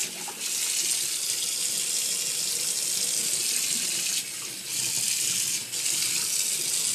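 Water runs steadily from a Kraus pull-out kitchen faucet into a sink, a loud continuous hiss that briefly dips twice as the flow shifts.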